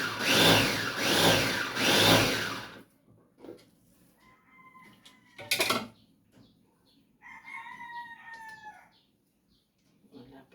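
Backyard chickens crow and cluck nearby: a loud scratchy burst first, then scattered clucks and a rising crow over faint background noise.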